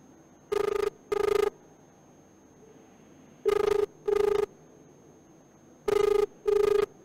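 A telephone ringback tone while calling an official, sounding as three evenly spaced double rings, each pair of buzzy tones repeating every few seconds over a faint steady hum.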